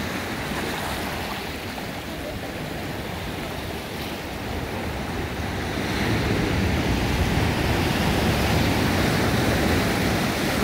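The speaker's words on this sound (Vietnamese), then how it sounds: "tiếng sóng đó, đập tới chân mình luôn á" Ocean waves surge and wash up onto a rocky shoreline along the California coast, a steady loud roar of surf with wind that swells louder midway through. No voices are present.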